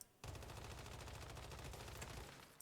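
A frost laser weapon in the video game Once Human fires a rapid, steady stream of crackling, buzzing pulses that starts abruptly and runs for about two seconds before cutting off, loud and alone.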